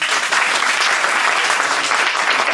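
Audience at a corporate plenary magic show applauds to vote for a trick, a dense, steady wash of clapping from a crowded room sustained throughout.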